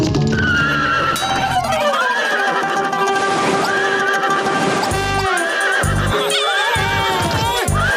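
A horse whinnies loudly several times with rising, bright calls, hooves clopping underneath, on a film set, close and continuous with no talk.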